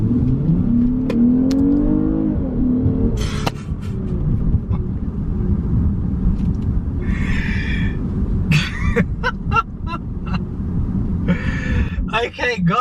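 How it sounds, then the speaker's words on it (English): A 2020 Lexus GS350 with a V6 hums along the road from inside the cabin, its engine drone and road noise steady throughout. A few coughs and brief clicks sit over the engine sound. "now we are driving the Lexus GS350"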